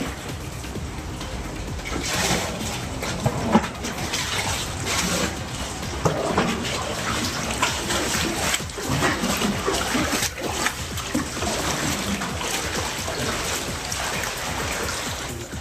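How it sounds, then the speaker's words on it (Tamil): Floodwater splashes and sloshes continuously as education officials scoop ankle-deep water from a flooded office with buckets and pour it outside, busy and irregular at close range, with no clear speech. "அலுவலகத்தில் தேங்கியிருந்த தண்ணீரை கல்வி அலுவலர்கள் பக்கெட்டில் எடுத்து வெளியே ஊற்றிய வீடியோ காட்சிகள்"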